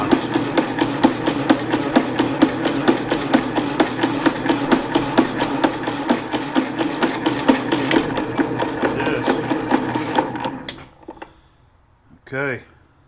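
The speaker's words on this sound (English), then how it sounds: "Cutting these small pieces like this, man, I'm telling you, that's why I've held on to this little power hacksaw." A small power hacksaw cuts small metal pieces in a shop, its blade stroking back and forth in a steady repetitive rhythm that runs close and loud for about ten seconds, then stops, with brief handling noises afterward.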